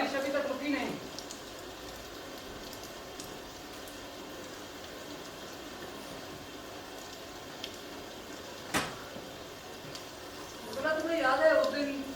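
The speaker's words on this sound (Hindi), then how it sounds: "बारिश अभी तक रुकी नहीं।" Theatrical rain effect on stage at an auditorium during a Hindi play: a steady, even hiss of falling rain running throughout, with actors' voices rising over it at the start and again near the end.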